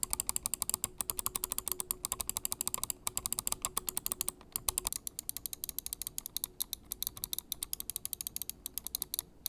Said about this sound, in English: They've got a much firmer click that's also a bit lower pitched and quite a bit louder.